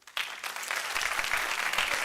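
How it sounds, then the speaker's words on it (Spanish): An audience at the Animaweek 2024 opening day applauds a guest, Alejandro Navarro, as he is introduced: dense, steady clapping that starts abruptly after a brief quiet moment and holds at an even, fairly close level. "Un aplauso para él."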